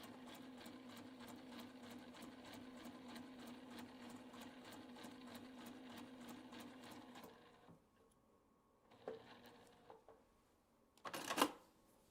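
A sewing machine stitches quilt pieces in a steady, fast mechanical rattle for about seven seconds, then stops, leaving a few softer clicks and a brief sharp rustle near the end.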